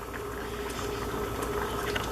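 Pot of Jamaican stew peas with pig's tail boiling on the stove, a steady close bubbling and simmering hiss that runs the whole time with a small pop near the end.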